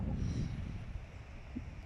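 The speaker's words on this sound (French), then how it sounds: "Désolé pour le vent, il y a pas mal de vent aujourd'hui" Low, rumbling wind buffets the microphone steadily, a muffled roar throughout with no voices.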